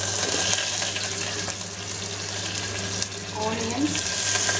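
Mustard seeds, green chillies and curry leaves fry in hot oil as a broad hiss and spatter that swells and fades, with faint clicks and a quiet voice in the background.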